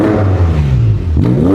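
A BMW X5 M engine revs through its four-tip exhaust, a loud, close burst of throaty rising and falling engine note lasting a moment.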